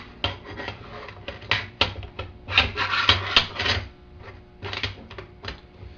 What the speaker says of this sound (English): Flip it back over and put the operating rod back in.